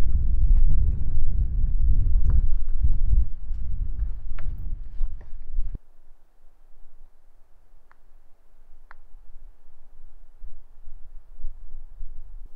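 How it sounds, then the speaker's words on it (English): Strong wind buffets a microphone on a mountain summit in Bighorn National Forest, a loud continuous roar that drops off abruptly partway through to a much quieter hiss with a few faint ticks. "So windy."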